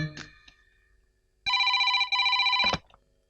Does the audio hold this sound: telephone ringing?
yes